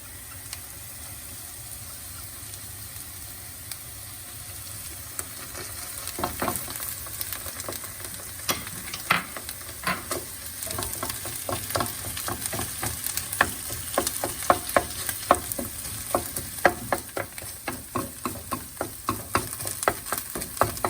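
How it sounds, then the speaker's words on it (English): Tomato paste is stirred into food frying in a pan for butter chicken, giving a steady close sizzle with irregular scraping stir noises that grow busier and louder toward the end. "we're gonna put in the 4 tablespoons of tomato paste. Let's get that mixed in right now."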